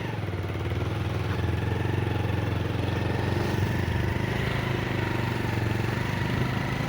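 A motorcycle that lacks power, ridden through jungle near run-down paper mill quarters, gives a loud, steady engine drone that never lets up.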